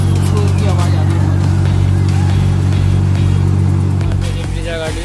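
A Maruti Brezza's AC blower running at full speed with the ignition on, a loud steady whooshing hum inside the car that holds even for several seconds and eases slightly near the end.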